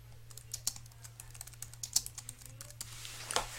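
A computer keyboard is typed on to enter a document title, with quick irregular clicky keystrokes that come close and clear against a quiet background and a faint steady hum.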